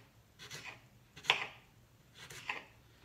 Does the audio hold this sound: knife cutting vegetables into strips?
yes